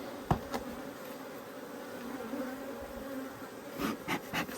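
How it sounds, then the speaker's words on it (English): Honey bees swarming around an open nucleus hive, a faint, continuous buzz with a few close passes by single bees and soft knocks near the start and end. "Bees all over me."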